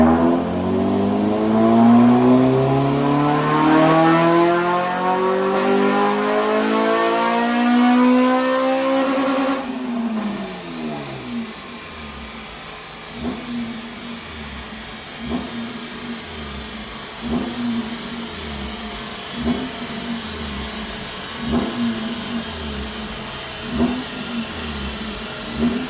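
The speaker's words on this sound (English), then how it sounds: "Richard's set up, ready for a standard power run, see what she's making now" A Honda Civic EP3 Type R with a K20 engine revs hard through a full-throttle power run on a rolling road dyno, pitch climbing steadily for about ten seconds before lifting off into a lower idle with rhythmic repeated blips.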